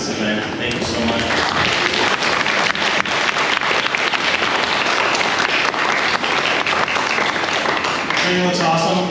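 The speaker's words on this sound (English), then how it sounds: "give a huge round of applause for Joseph for organizing this event" A large crowd gathered at a gaming community meetup breaks into loud, continuous applause, energetic and sustained throughout, with faint voices mixed beneath the clapping.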